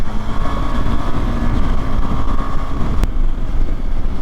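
Steady motorcycle engine drone and road rumble while riding through traffic, with wind buffeting throughout and a brief sharp click near the end.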